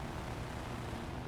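A Grumman Wildcat fighter plane's propeller engine drones steadily in a flight game, a constant low broadband roar, faint and unbroken with no voices.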